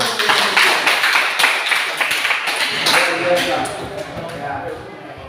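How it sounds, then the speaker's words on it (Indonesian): Classroom applause for podium winners: a scattered patter of hand claps and taps from a group of children, fairly close, mixed with voices and fading slightly toward the end. "Kita beri aplaus"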